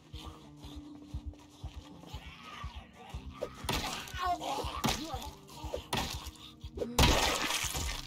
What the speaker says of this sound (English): Remove this broken glass.